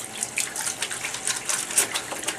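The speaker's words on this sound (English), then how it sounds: "Running water, a squeeze of soap." Tap water runs for hand washing in a courtyard garden, a close, fluctuating splashing stream with irregular spatters and gurgles throughout.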